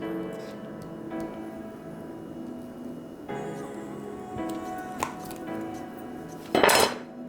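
A knife works through a chilled brick of banh bot chien rice cake on a board, with quiet scraping and tapping strokes and a sharper clatter of metal near the end, close and fairly soft, no voices.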